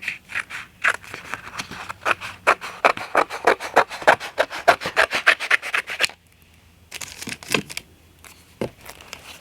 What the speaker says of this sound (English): I'm going to cut a strip here